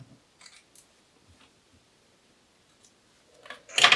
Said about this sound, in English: and snip my threads